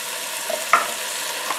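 Minced garlic sizzling and frying in a Ninja Speedi pot, a steady close hiss with one brief scrape of a stirring utensil partway through.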